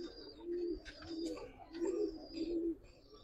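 Several pigeons, including singles offered at a pigeon sale of Giribaz and colouring breeds, coo in low repeated bursts close by, with faint chirps and background bustle around them.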